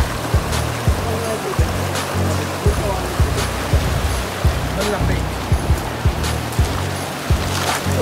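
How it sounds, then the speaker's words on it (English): Waterfall in Johnston Canyon rushing steadily in a broad, loud wash of water noise, with brief sharp knocks and thumps scattered over it. "Water comes down!"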